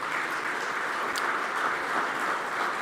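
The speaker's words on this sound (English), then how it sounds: "That deserves a round of applause" An audience at a racing awards ceremony applauds in a steady wash of clapping that holds at an even level from start to finish, with no voices over it.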